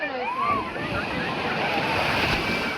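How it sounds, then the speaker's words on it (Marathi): Steady wash of surf rolling onto the shore at Vengurla beach in Konkan, broad and continuous, with wind buffeting the microphone throughout. "मस्त समुद्राचा किनारो आणि लाटा बघा"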